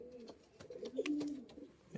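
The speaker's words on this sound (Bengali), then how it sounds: "রেগদার চোখের ম্যাড্রাস পায়রা, মুখ কাটা রয়েছে" A Madras pigeon coos softly in a short low burr with a few faint clicks and bumps around it, heard close but quiet.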